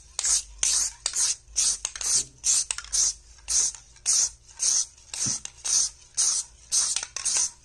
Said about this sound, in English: So this is the second coat of primer that you're going to use for your plate.